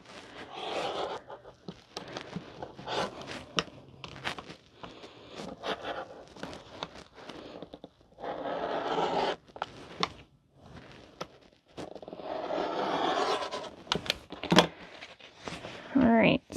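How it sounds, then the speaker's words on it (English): A rotary cutter slices through fabric while a car trash can is sewn from a pattern, giving close, repeated scraping bursts separated by brief pauses. "cutting with the rotary as far as I can"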